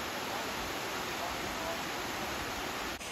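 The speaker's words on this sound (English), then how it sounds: "Got the waterfall over there, a little lookout right here." A waterfall rushing after heavy rain in Fundy National Park, heard as a dense, steady roar of falling water that fills the whole stretch without pause, with a brief handling bump near the end.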